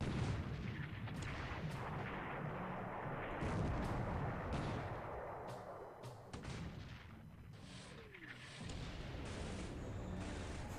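Naval gunfire in the strategy game War in the Pacific comes as dense, rumbling booms and sharp cracks over a constant roar of battle, loud and continuous throughout with no speech.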